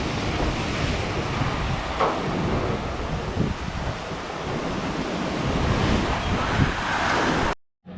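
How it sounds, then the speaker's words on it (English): A constant roaring rush of wind from Typhoon Quinta in Naga City, Philippines, batters the microphone, with heavy buffeting gusts throughout before cutting off abruptly at the end. "very strong gusts"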